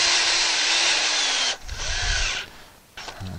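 A power drill drives self-tapping screws to anchor a gazebo to a deck, a loud close whine for about a second and a half, then shorter bursts with pauses between them.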